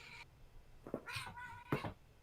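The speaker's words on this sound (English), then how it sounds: "Sorry, that was my cat." A pet cat on catnip gives a few short, quiet meows in a room, three brief calls spaced across a couple of seconds.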